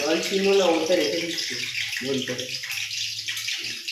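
Water hitting hot oil in a cooking pan spatters and sizzles in a steady hiss while a chicken dish is being made, with a voice talking over it for the first half.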